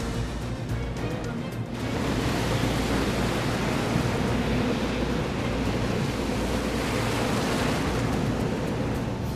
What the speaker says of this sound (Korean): 파도 너무 심한데요?